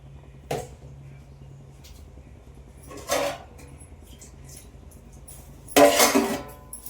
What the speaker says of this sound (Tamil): இப்போ இதை மூடி விட்டுடலாம்.